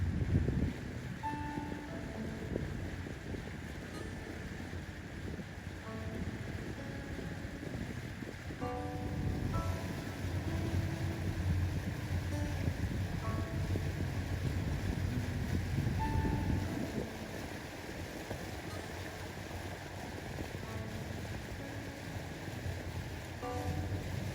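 Boat engine droning steadily as the vessel leaves an Alaskan harbor, a continuous low rumble mixed with wind and water wash, with no talk.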